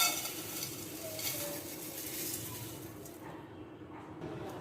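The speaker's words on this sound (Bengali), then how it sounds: "5 মিনিট পর চিড়াগুলো এখন কড়াইতে দিয়ে দিব।" Flattened rice (chira) frying in a wok, a soft continuous sizzle and rustle with faint scraping of a stirring utensil, low and steady throughout.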